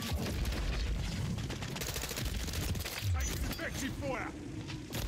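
M4 rifle gunfire in Call of Duty: Modern Warfare 3 multiplayer, dense rapid cracks and bursts in quick succession over busy battle noise, with a voice talking over parts of it.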